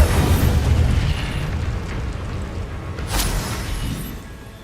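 An Incendio fire spell goes off in Hogwarts Legacy, a loud roaring burst of flame that rumbles and whooshes, then fades over a few seconds, with a second flare near the end.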